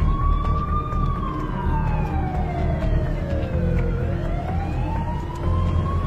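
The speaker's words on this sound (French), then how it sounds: "On entend plein de sirènes, ça doit être un sacré putain de feu." A loud emergency siren wails, sliding down in pitch and then climbing again, over a low rumble of traffic.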